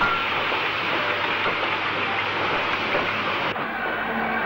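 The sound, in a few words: steam locomotive WD 90315 restarting with iron ore freight train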